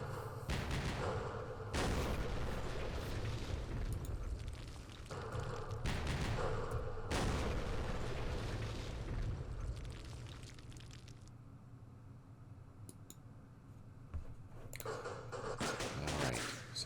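Artillery fire and explosions in a Vietnam war strategy game set at the Battle of Dak To, a dense, sustained roar of blasts and rumbling booms that thins briefly before building again.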